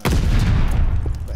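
A shotgun blast in a Search and Destroy video game match: one loud, booming shot with a heavy low rumble that lingers briefly, close and dominant.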